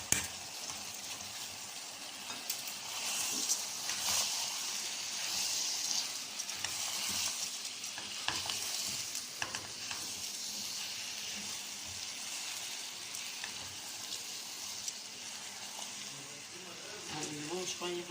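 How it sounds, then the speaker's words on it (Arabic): Rice with liver filling stirred in a pot, a steady sizzling, frying hiss with soft scraping stir strokes running throughout, close and even in level. "هنقلبهم شويه هما كده مع بعضيهم."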